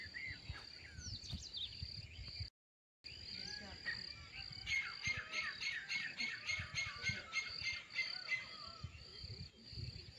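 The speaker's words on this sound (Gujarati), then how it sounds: "દેખો અમારે વાડીમાં અવાજ સંભળાય છે મોરલાઓનો." Peacocks call in a village farm field near a pond at dawn, their repeated squawks coming from a middle distance over a steady chorus of insects and birds, with a brief dropout partway through.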